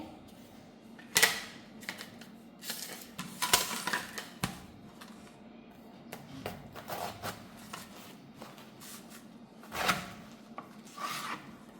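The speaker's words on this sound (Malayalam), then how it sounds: "ഇനി ഇതൊന്ന് കഷ്ണം വെട്ടിയിട്ട് ചെറുതായി കട്ട് ചെയ്തെടുക്കട്ടെ." A knife slicing purple cabbage on a board, a series of irregular crunchy chops and cutting strokes at close range, some louder than others, with short gaps between.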